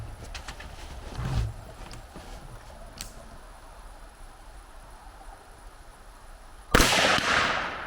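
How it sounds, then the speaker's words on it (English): Rifle with a red dot sight test-fired at a little past 100 yards outdoors: one faint distant shot early, then a single loud sharp report near the end with a ringing tail, with quiet ambience between. "let's go ahead and try out a few shots here at a little past 100"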